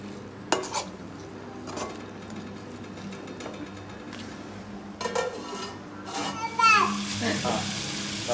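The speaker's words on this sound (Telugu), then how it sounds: "వేసుకున్న మసాలా మొత్తం ఈ ముక్కలకి పట్టేటట్టు మిక్స్ చేసుకోండి." Masala is stirred into country chicken pieces in a pot for a natukodi curry, with scattered scrapes and clinks of a spoon against metal and a soft sizzle building toward the end.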